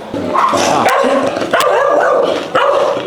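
An agitated mother dog guarding her puppies barks repeatedly and loudly nearby in Cuba, sharp yaps in quick succession with short gaps.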